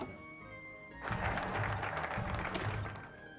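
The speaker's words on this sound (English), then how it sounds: "Big round of applause" Studio audience applause bursts in after a brief quiet lead-in and holds as a loud, dense, sustained clatter of many hands for over two seconds before easing off at the end.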